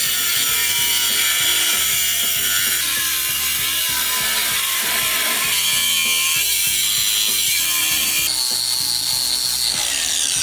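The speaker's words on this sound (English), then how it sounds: "It's time for some cutting and some hammering." Metalwork on a 1965 Ford Mustang: continuous clanking, rattling and grinding of cutting tools against body metal, loud and close, with no voices.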